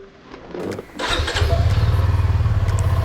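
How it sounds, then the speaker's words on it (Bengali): A Suzuki V-Strom 250 SX motorcycle is started close by: a short starter whir catches and settles into a steady, throbbing idle with a regular pulsing beat. "তো চলো গাইজ, বাইকটা স্টার্ট দিই আগে।"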